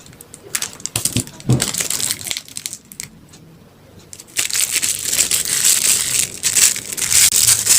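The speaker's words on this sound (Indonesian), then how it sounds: "Lalu kita gunting ujungnya" Scissors snip the tip of a plastic triangular piping bag filled with cheese stick cookie dough, giving a few short crisp cuts and plastic crinkling up close, with no talk.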